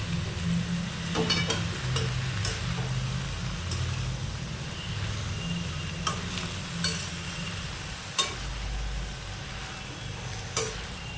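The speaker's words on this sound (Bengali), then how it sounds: "এবার মশলাটা শাকের সাথে একটু মিশিয়ে নিচ্ছে।" Spice mix stirred into pumpkin and Malabar spinach greens in a pan, soft scraping and stirring strokes at an uneven pace over a low sizzle, close but fairly quiet, with a low rumble in the background.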